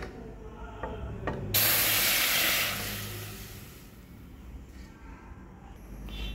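Blanched banana flower and water tipped into a hot wok set off a sudden loud hissing spray that holds for about a second and then fades slowly to a steady low sizzle, with faint clinks before it.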